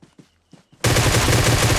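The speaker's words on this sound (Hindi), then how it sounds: "लेकिन फिर से फायरिंग हुई यहाँ पे" Two seconds of BGMI battle royale action: a few soft taps and clicks, then a sudden, loud, continuous burst of automatic gunfire that stays dense and unbroken to the end.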